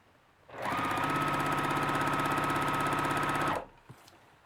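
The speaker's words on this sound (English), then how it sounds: "I'm going to sew about 1/8 inch from this fold, from the inside fold." An embroidery machine stitches fabric held in a hoop, a loud, even, rapid mechanical whir that starts abruptly, runs steadily for about three seconds, then stops, leaving faint room noise.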